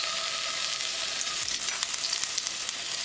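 Ginger, garlic and green chili paste fries in olive oil in a karahi, producing a steady, loud, close sizzle that continues without a break.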